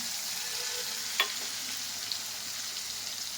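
Cumin, mustard seeds, asafoetida and tomato sizzling in hot oil for a sambar tempering, a steady close frying hiss broken by a soft stir and a brief clink.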